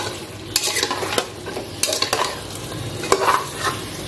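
Mutton is sautéed with yogurt and sauce in a pan, a loud, dense sizzle running throughout with a spatula scraping and stirring in continuous strokes and occasional sharper knocks against the metal.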